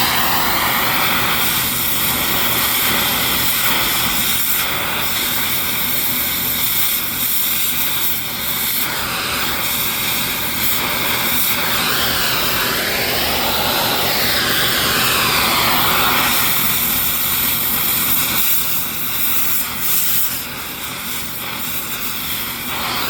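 A cutting torch burning through the roller stub shaft of a forklift mast: a steady, loud, continuous roaring hiss with a wavering pitch, close and unbroken, no talking.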